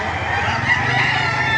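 A White Kelso rooster crows loudly close by at a market in Baliuag, a sustained strained call heard over a busy, noisy background.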